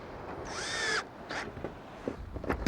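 A power drill drives small bugle head screws into the foot of a wooden river rocker chair, giving a short whirring spin that rises in pitch, followed by a few quieter taps and knocks nearby.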